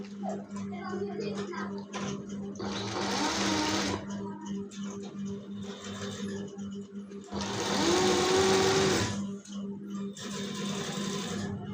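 An electric sewing machine stitches a waistcoat's pocket, running in two loud bursts of rapid whirring with a steady hum and quieter handling sounds between them.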